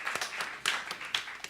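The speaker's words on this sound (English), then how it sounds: "Clap for Carl" A small audience claps for an advisor at a panel presentation, a brief patter of scattered hand claps of moderate loudness, with no talking over it.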